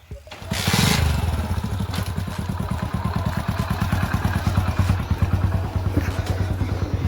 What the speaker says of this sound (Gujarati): તો આપણી રેન્જ રોવર બાઈક કાઢ નાખી છે